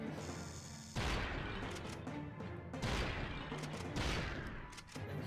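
Dense bursts of weapon fire from the Ratchet and Clank video game crackle loudly in rapid volleys, with a few sharper cracks and brief dips between the barrages.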